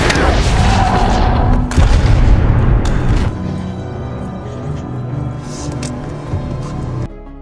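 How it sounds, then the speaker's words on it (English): A movie gunshot rings out in a yakuza revenge drama, with loud, dense booming bursts in the opening seconds that give way to a quieter scene. "Varric has already brainwashed Ani, who shoots Kate to take revenge."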